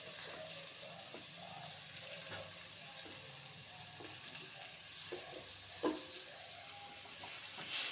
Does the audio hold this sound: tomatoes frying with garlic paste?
yes